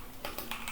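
Quick keystrokes on a computer keyboard as a short terminal command is typed, a few crisp close taps in fast succession with no voices.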